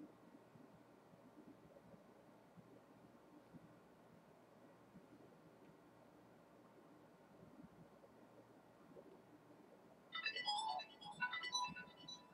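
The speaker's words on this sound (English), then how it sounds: "I hate my phone. Get a different texting noise." A phone's text message notification chimes once near the end, a short bright melodic alert that stands out clearly over faint, hissy background noise.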